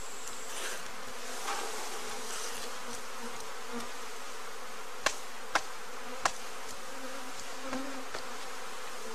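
A steady hum of many honey bees buzzing inside shipping packages, low and continuous, with a few sharp clicks and taps standing out near the middle.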